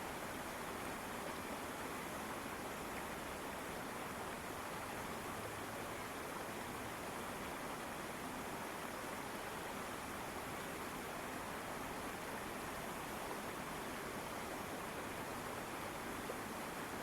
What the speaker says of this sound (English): by the tropical stream in the rainforest